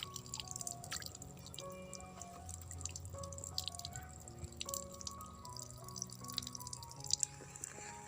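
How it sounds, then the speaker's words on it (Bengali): Rice grains being rinsed by hand in a bowl of water, with steady drips and small splashes sloshing close by, irregular and moderately quiet, no talking. "খুব ভালো করে পরিষ্কার করে চালগুলো ধুয়ে নিতে হবে।"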